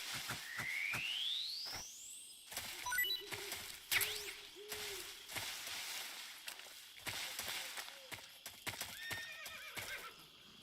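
A horse whinnies loudly in the video game Metal Gear Solid 3: Snake Eater, followed by hoofbeats and electronic chirps and tones, with rustling game sound effects throughout; no talking.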